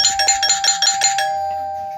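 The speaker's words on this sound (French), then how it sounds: "Et la sonnette est bizarre." Doorbell in the Roblox game Brookhaven ringing in a quick run of repeated bright chimes for about a second, then a single sustained tone fading away, close and clear with no talk.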